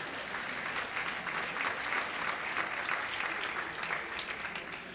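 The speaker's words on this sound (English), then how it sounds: "You can clap for our board." Sustained applause from a crowd at an athletic banquet, dense even clapping filling the whole stretch at moderate loudness, with no talk over it.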